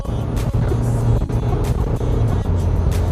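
A 2023 Isuzu Mu-X with a six-speed gearbox holds a loud, continuous engine rumble under pressed throttle, heard close from inside with a few light knocks over the drone.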